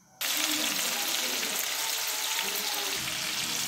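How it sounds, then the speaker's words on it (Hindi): Chicken popcorn dropped into hot oil in a kadhai bursts into a loud, dense, continuous frying sizzle that starts suddenly and holds steady, close by with no voices. "अब हम ये डाल देंगे अपनी कढ़ाई में फ्राई करने के लिए"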